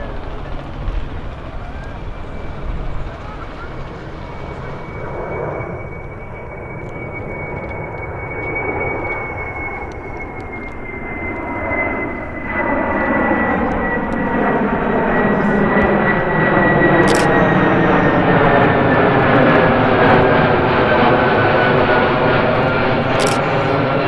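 A Qantas Boeing 747 on its final flight passes over Sydney Airport. Its loud jet engine roar builds from a distant rumble into a close, sweeping, whining drone that grows steadily louder and fuller.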